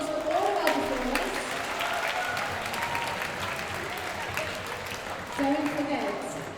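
Audience at a school spring arts festival assembly applauds the performers, a steady roar of many hands clapping that fills the room throughout and swells again near the end.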